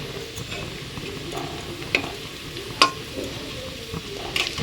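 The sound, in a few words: frying egg and potato in a pan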